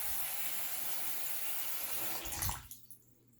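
A bathroom sink drains its water with a steady hiss and gurgle that ends in a final slurping swirl, then quiet.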